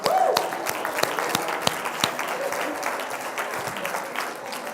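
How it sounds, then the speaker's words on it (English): An audience at a motivational keynote gives a loud round of applause, with dense clapping that starts strong and slowly thins, a faint voice or cheer briefly audible at the start. "Give him a round of applause."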